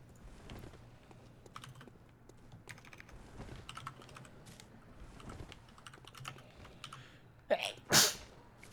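Quiet keyboard typing and soft clicks, then a sharp, loud sneeze near the end, preceded by a quick intake of breath.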